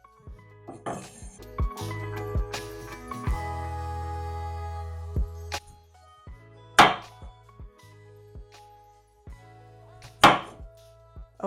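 Knife cutting a washed potato into four pieces on a board, with a few sharp, separate chopping knocks and clinks spread over several seconds in a quiet kitchen, with dish and utensil sounds around them.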